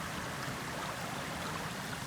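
A creek running high pours over a wall into a water basin, making a steady, dense rush of water that stays continuous and fairly close throughout, with no voices.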